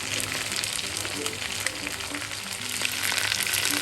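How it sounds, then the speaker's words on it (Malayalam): Chicken drumsticks frying in hot oil over a high flame, a steady, loud, dense sizzle that runs unbroken throughout with no voices. "ഫ്ലെയിം കൂട്ടിയിട്ട് ഒന്നും കൂടെ നമുക്ക് ഫ്രൈ ചെയ്യാം."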